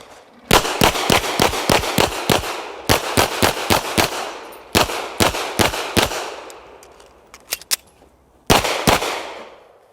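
Rapid, loud, close gunshots on a timed shooting course with three pop-up targets, fired in quick strings of several shots separated by short pauses, sharp cracks ringing out across nearly ten seconds.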